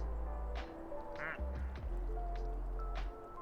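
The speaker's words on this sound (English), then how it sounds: "That guy's skiing on the slopes with ducks." Several ducks quack in short bursts in the video game Like a Dragon: Pirate Yakuza, set on snowy ski slopes, over a steady low game background hum, fairly close and clear.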